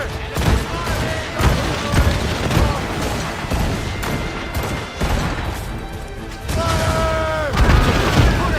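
Naval cannon volleys from sailing warships in Assassin's Creed Rogue, heavy booms repeating every second or so amid a loud, chaotic battle with shouted voices and music.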